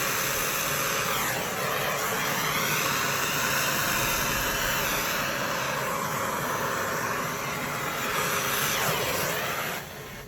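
A torch heats a copper pipe fitting for soldering, giving a steady, loud, close roaring hiss that holds for about ten seconds before cutting off, with no voices.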